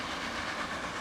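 A long, expensive train in a transport video game rolls along its tracks, producing a steady, soft rumbling hiss with faint rhythmic clatter, continuous and moderately quiet for the whole brief moment.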